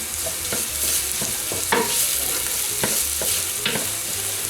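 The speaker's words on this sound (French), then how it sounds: "On va faire revenir cette petite brunoise pendant environ 1 à 2 minutes." A small vegetable brunoise with chopped garlic frying in a pan for a hash of beef, tomato and broccoli, steady close sizzle broken by regular scraping stirs, no talking.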